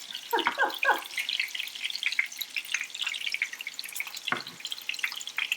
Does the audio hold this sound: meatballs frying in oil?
yes